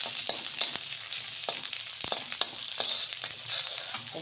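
Chowmein ingredients with ginger paste frying in a pan, giving a continuous close hiss and sizzle broken by occasional spatula scrapes and taps.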